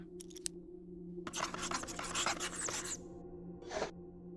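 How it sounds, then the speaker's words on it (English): Pencil sharpener grinding a stick of chalk in the PC game Firework: a few quick scratchy scrapes, then a dense, loud grinding burst lasting over a second, and one short final scrape after a pause, over a low steady background hum. "Use the pencil sharpener to grind the chalk."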